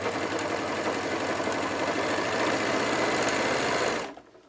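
A Jaguar 2015DF three-thread overlocker stitches fabric at full speed, producing a fast steady mechanical whirring hum for about four seconds before stopping abruptly, close and loud with no speech.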